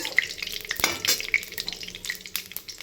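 Whole spices, among them dried red chillies and bay leaves, temper in hot oil in a pan, sizzling and popping close up in quick irregular crackles with occasional stirring clatter.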